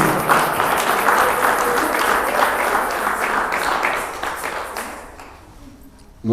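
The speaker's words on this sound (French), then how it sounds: "Applaudissons pour le Seigneur." A church congregation claps together at a Sunday service, a steady dense wash of applause lasting several seconds before it thins out and stops.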